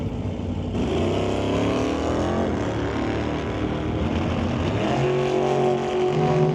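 Drag race cars launch at the Smoke Fire and Thunder 2023 event and rip down the racetrack, a loud, sustained engine roar with rising pitch sweeps as they accelerate away.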